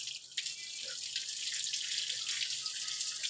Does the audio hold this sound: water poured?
yes